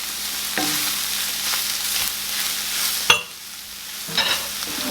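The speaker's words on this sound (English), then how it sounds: "Give that a little mix" Ground beef sizzles steadily in a pan as flour is stirred through it for a hamburger and French fry casserole, with a few sharp spoon scrapes and clacks against the pan over a continuous close frying hiss.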